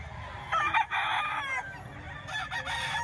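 Roosters crow and chickens cluck at a busy outdoor poultry market, with a crow rising loudly near the start and more calls following over a steady crowd murmur.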